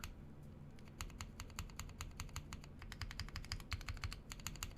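Fingers type quickly on a custom Bakeneko mechanical keyboard with stabilized keys, a close, quiet stream of crisp clacks at a steady, slightly uneven pace, alone without voices.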